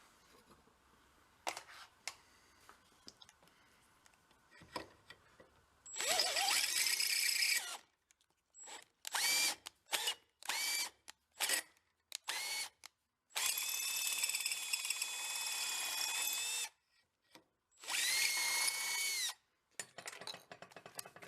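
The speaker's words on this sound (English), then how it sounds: "Kick the drill bit out a little." A power drill whirs in repeated bursts during a Bobcat UTV transmission rebuild, some long and steady, others short stop-start pulses, with faint clicks and handling noise in the quiet gaps.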